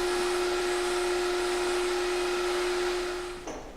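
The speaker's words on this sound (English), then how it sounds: "so that I can vacuum them up" A vacuum cleaner sucks up loose scale from a Grizzly 1022 table saw during a restoration, giving a loud, steady whine with a constant tone that shifts abruptly near the end.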